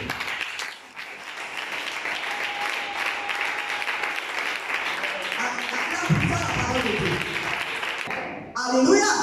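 A church congregation applauds in a long, dense, sustained burst of clapping that fills the room, fading briefly before a final livelier surge with a voice near the end.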